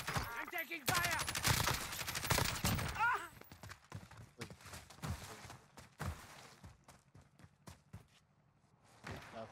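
Rapid video game gunfire, with loud volleys of overlapping shots up front thinning into scattered bursts and single cracks, and in-game voices heard among them.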